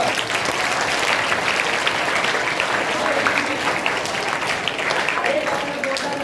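Loud, sustained applause from a seminar audience fills the room, steady and dense throughout, with occasional voices mixed in underneath.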